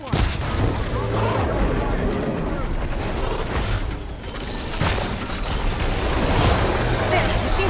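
Repeated heavy blasts from a captured Ravager cannon in Horizon Forbidden West, loud booming shots with a rumbling mechanical bed between them, and a voice talking over the fire.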